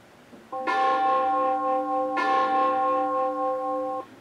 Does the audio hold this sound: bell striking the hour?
yes